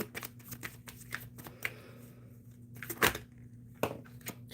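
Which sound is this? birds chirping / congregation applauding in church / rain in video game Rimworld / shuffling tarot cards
shuffling tarot cards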